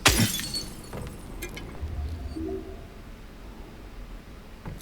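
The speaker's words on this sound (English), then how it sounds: "Let's break the glass." Glass shattering in the Silent Hill 2 remake, one sharp, bright break at the start followed by a few scattered tinkling shards, then a quiet, dim ambience.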